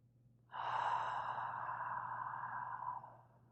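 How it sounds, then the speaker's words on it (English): A single long, steady exhale of deep breathing, soft and close, rising suddenly and holding for about three seconds before fading, with a faint low hum beneath. "Another breath in and another breath out."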